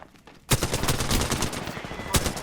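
Enemy gunfire in the Apex Legends battle royale game: a sudden loud burst of rapid shots that keeps going as dense, overlapping automatic fire, with another sharp burst near the end.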